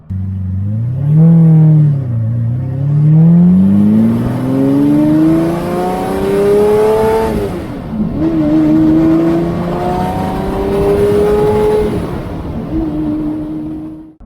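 A high-mileage Lamborghini with an aftermarket exhaust revs up through the gears with a loud, raspy exhaust note, pitch climbing steadily, dipping between shifts, then climbing again.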